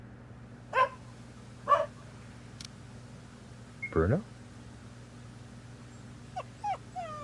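A puppy in a nighttime video game whimpers and yelps in a few short, separate bursts, with a brief whine near the middle and small yips toward the end over a low steady hum, with a voice speaking briefly.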